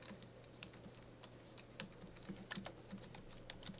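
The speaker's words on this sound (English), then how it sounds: "5th time I've had to type it" Someone types C++ code on a computer keyboard during a programming lecture about file input and output. The keystrokes come as faint, scattered clicks over a low steady hum, with no talking.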